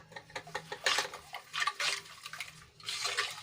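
Homemade dishwashing liquid being stirred after green colouring is added, a quiet run of soft swishing, sloshing strokes with faint clinks against the container, no talking.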